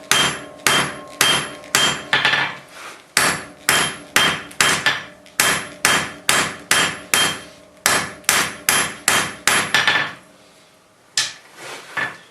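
A hammer strikes steel on an anvil while bolt jaw tongs are forged, ringing out loud and close in a steady rhythm of about twenty blows with brief pauses between groups.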